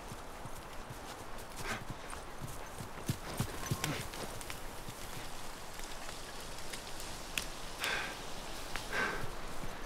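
Horse hooves clip-clop steadily in The Last of Us Remastered, a run of even, near hoofbeats over a soft rain-like patter with no talk.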